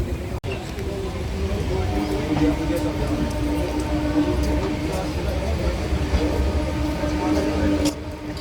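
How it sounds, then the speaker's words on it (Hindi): A passenger train pulls away from New Ghaziabad railway station, its steady low rumble and rattle running continuously under a near, loud wash of cabin noise, with a brief sharp knock near the start. "इस वक्त हमारी ट्रेन नए गाज़ियाबाद रेलवे स्टेशन से रवाना होते हुए"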